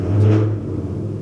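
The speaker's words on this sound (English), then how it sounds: "he revs for a long time before he goes anywhere" A car engine revs in a short swelling burst that peaks early and then settles back to a low idle rumble, close and fairly loud.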